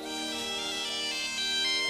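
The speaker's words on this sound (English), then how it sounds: "It's my dad's satellite phone." A satellite phone rings in a Lego Jurassic World cartoon with a steady electronic tone, rich in even harmonics, sounding fairly faint and continuous with no talk over it.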